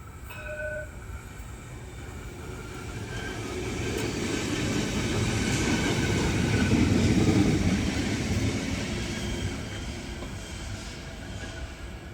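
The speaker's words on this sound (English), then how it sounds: "There's a tram coming." A Parramatta Light Rail test tram rumbles past on a bridge, growing louder toward the middle and fading again, with a rattling, grinding rhythm of wheels over the track.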